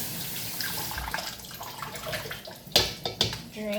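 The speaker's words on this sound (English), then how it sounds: "I'm gonna rinse it under cold water" Cold tap water runs into a sink over cooked pasta being rinsed for a lemon, asparagus, spinach and feta pasta salad: a steady close rush with a few sharp clatters near the end.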